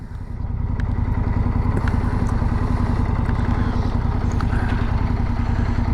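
A Triumph T120 motorcycle engine starts up and settles into a steady, loud, close throbbing rumble with a clattery mechanical texture and occasional ticks.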